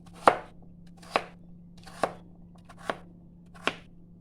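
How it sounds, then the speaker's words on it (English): A knife chops pumpkin into small cubes on a board, five sharp, evenly spaced strokes about a second apart, close and clear with a low steady hum beneath. "Pumpkin we just cut in cubes. The smaller the better"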